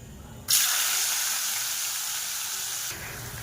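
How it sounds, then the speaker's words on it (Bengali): Onion hits hot oil already holding whole garam masala, cumin, bay leaf and a little sugar, bursting into a loud, steady sizzle that slowly eases over a few seconds. "তো এর মধ্যে এবার দিয়ে দেবো পেঁয়াজ।"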